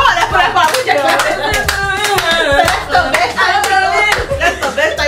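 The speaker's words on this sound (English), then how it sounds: "Come on with your clap" A few people clap along in loose rhythm during a music reaction session, sharp hand claps mixed with music, voices talking and chuckling over them.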